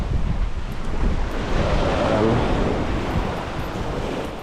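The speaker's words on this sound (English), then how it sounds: "the waves push and pull stuff through" Ocean waves wash continuously onto a beach while strong wind buffets the microphone, a close, loud, roaring rush with no talking.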